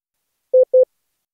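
Two short, even beeps of a pure mid-pitched tone form the letter I in slow Morse code, crisp and isolated in silence.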